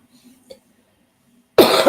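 A single loud, harsh cough bursts out near the end, following a stretch of faint low murmuring and quiet.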